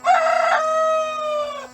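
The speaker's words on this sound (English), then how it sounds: "He's the one who crows every single day." A single rooster crows loudly and close by in one sustained, strained cock-a-doodle-doo lasting under two seconds.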